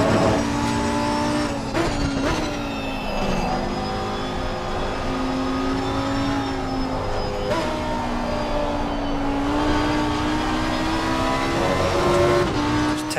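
A GT race car engine screams through gear changes in the sim racing game Assetto Corsa Competizione, loud and close, with the revs climbing, dropping and climbing again across the lap.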